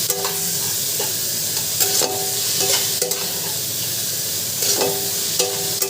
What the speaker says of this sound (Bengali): এবারে ভালো করে বেগুনটা ভেজে নিয়ে তারপরে আমি শাকটা দেবো